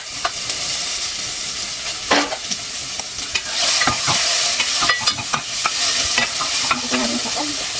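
Chopped tomatoes tipped into onions sizzling in a hot pan, then stirred: a steady loud frying hiss with repeated scraping strokes of a spoon against the pan, alone without talk.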